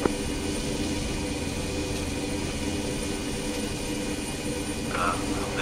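A military helicopter in the video game ArmA, heard as a steady, loud engine and rotor drone that stays constant and unbroken throughout.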